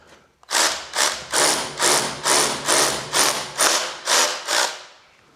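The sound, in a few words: power drill drilling large holes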